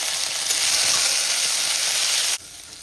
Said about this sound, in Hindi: अब मैं इसमें डाल दूँगी अदरक